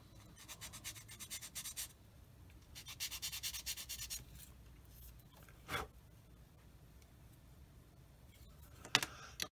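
Plastic parts from a Tamiya 1/35 Panzer II model kit are sanded by hand. The rubbing comes in short, quiet scratchy passes with pauses and a few soft knocks between them.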